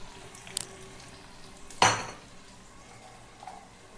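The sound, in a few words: sautéing onion with curry leaves in a pan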